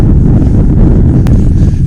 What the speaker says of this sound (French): Je prends des grandes rafales dans la gueule.